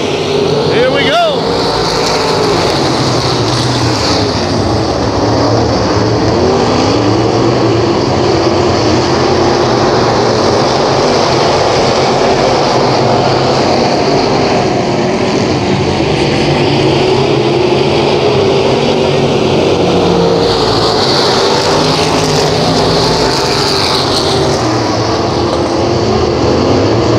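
Race cars roaring back to speed on a restart at Outlaw Speedway, a loud continuous engine drone filling the air throughout, with an announcer talking over it.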